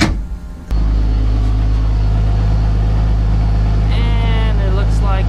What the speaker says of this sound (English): I'm gonna start up the car first and then look for any leaks.